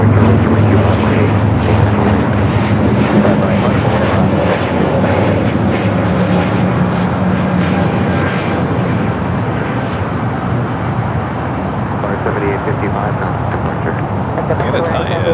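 Heavy jet airliner taking off from runway 25 right at LAX, a loud, sustained engine roar that stays strong for about fifteen seconds and eases slightly toward the end, with talk heard over it.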